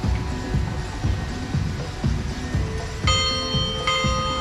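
Church bells in Batumi, Georgia, ringing at set hours as a melodic chime sequence over rhythmic low thumps of music, steady and fairly loud in an outdoor city setting.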